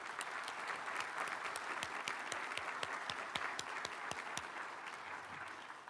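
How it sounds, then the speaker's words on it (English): An audience at an evening graduate white coat ceremony applauds the graduate students. The applause is a continuous, fairly faint wash of many hands that holds steady and eases off slightly at the end. "let's have our first round of applause for our graduate students"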